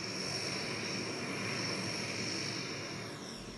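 The engines of the aircraft carrying the government's prime minister and ministers into Mukalla, Yemen, give a steady loud roar with a constant high whine, unbroken and close. No one speaks over it.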